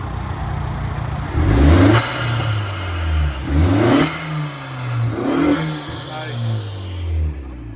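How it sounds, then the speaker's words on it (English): A 2021 Honda Accord 2.0T with a K&N intake and muffler and resonator delete, heard from the front as the engine is revved three times, each rise and fall loud and close over a steady idle, with a voice speaking briefly. "we'll do another rev to hear from the front to see how the K&N intake sounds like"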